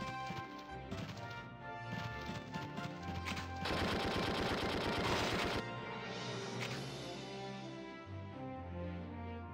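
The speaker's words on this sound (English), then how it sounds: "Let's try the grenade." A grenade goes off in the war game Valkyria Chronicles II, a dense crackling burst of explosion and debris lasting a couple of seconds over steady game music and effects, with no talk.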